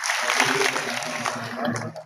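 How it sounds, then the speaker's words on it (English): Applause ripples through the audience at a graduation ceremony, a dense steady wash of many hands clapping, with a speaker's voice talking over it the whole time. "I request all of you to give them a huge round of applause"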